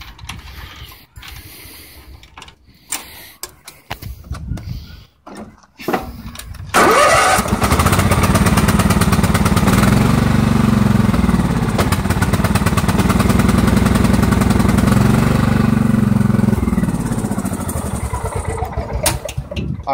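Craftsman LT4000 lawn tractor with a 42-inch deck, its engine cranked with clicking starter attempts before catching and settling into a loud, steady idle that runs on without talk.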